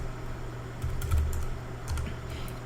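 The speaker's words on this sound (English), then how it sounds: "we're going to type object group again" Quick keystrokes on a computer keyboard entering Cisco router commands, a close run of light clicks with a couple of slightly louder taps over a faint steady hum.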